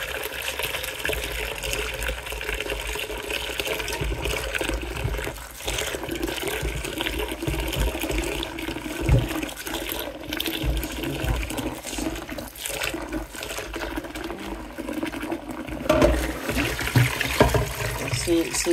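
Tap water runs steadily while langoustines are rinsed at a kitchen sink, a continuous splashing trickle with handling noises, under a voice talking throughout.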